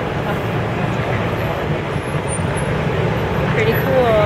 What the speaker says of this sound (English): We got the Guardians of the Galaxy bus.